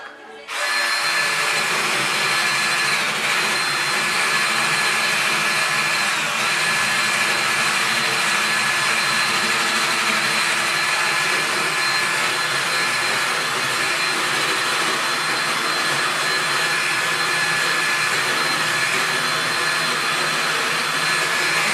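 A steel wire brush wheel on a power tool grinds scale off metal in a shop, a loud, continuous, close whirring and scratching whine that holds almost unbroken for the whole stretch, with no talking.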